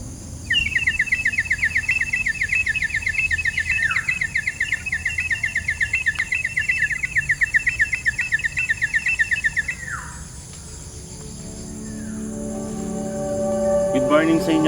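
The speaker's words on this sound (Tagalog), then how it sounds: "Pinapalapit ko lang yung ibon dito, men. Sobrang daming mga ibon dito na kakaiba sa paningin" Birds chirp and trill in a rapid, steady song close by at a campsite in the morning, a continuous bright stream that cuts off partway, leaving quieter ambient sound with a few faint calls.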